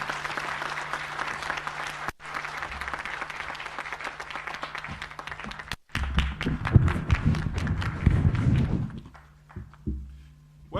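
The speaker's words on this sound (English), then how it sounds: "can we all rise up on our feet, do a hearty clap as we invite our chief guest, Honorable Olentutu" At an HR management conference at Sawela Lodges in Naivasha, a standing audience claps heartily to welcome the chief guest, steady crowd clapping broken by two sudden cuts, then heavier thumping and shuffling before it thins out.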